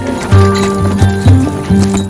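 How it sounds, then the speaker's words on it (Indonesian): A horse pulling a carriage clip-clops loudly and close by in a steady rhythm, with several distinct hoof strikes over a continuous low rumble. "mereka berdua pun pergi dengan menaiki kereta kuda menuju kota Hayesville"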